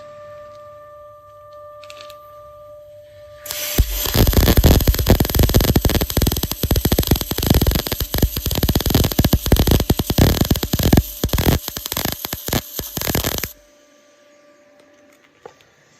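A synergic MIG welder runs at about 51 amps on a thin, dirty 2 mm iron piece, giving a loud steady crackling buzz for roughly ten seconds between quiet moments.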